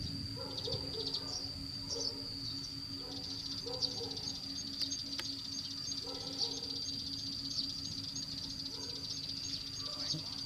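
Sparrows chirp in a flock near a glue bird trap, a faint wash of short repeated calls over a steady insect-like drone and a low hum, continuous and somewhat distant.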